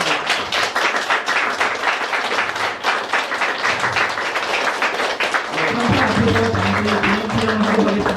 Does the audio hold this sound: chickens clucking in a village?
no